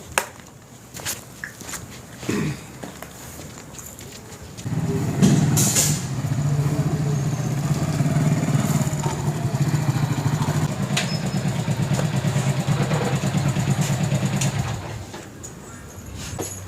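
A motorcycle engine rumbles steadily close by for about ten seconds after some scuffing footsteps, then cuts off, with no talk over it.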